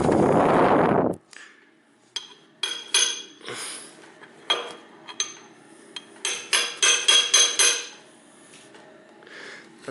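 A gasket seal is tapped into a gearbox housing with a hammer, giving sharp metallic knocks in irregular bursts, some quick clusters, after a short loud noise at the start; fairly close and unaccompanied by talk.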